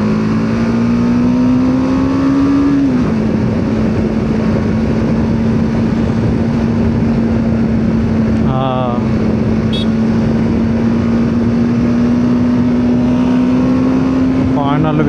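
A car cruises along a main highway, its engine drone steady and loud from inside the cabin, with a sustained hum and brief pitch shifts as it moves with traffic.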